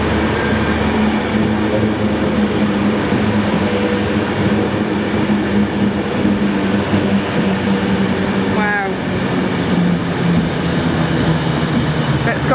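A ScotRail train on the Glasgow to Stranraer route gives off a steady, loud rumble and roar throughout, with a brief squealing sweep partway through.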